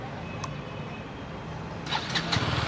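A KTM Duke 250 Gen 3 motorcycle engine idles after its chain tensioner was replaced, a steady low hum with no clicking or ticking, nearby and moderately quiet, with a few brief higher clinks toward the end.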